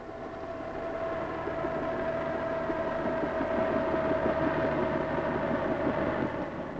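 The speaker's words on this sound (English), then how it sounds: "he hears the welcome noise of the whirlybird" A helicopter approaching in Korea: a droning engine with a steady hum and faint rhythmic throb grows slightly louder as it approaches, rumbling on continuously without any voices.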